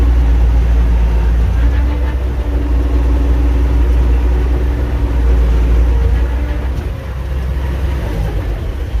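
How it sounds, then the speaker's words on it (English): Komatsu D41S-3 dozer engine running loud and close, a steady low diesel rumble that holds throughout with a slight dip near the end and no talk over it. "just showing you the Komatsu dozer running here"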